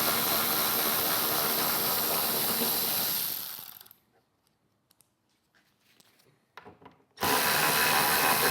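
A power driver with a Torx 25 bit whirring loudly and steadily as it backs out windshield bolts on a 2024 Harley-Davidson Street Glide, stopping for a quiet pause with small clicks before spinning up again.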